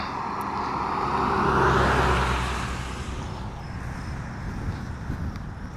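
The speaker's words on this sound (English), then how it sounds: "Get this car going by." A car passes nearby on a street in Norwich, Connecticut, its roar swelling to a peak and then fading away, over a background of steady outdoor noise.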